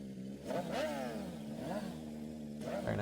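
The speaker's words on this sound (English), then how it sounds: "the Lil Wheelie emote" Engine revving from the Lil Wheelie emote in the video game Fortnite: a mid-pitched motor whines up and down in a couple of quick accelerating surges, close and fairly loud, with no talk.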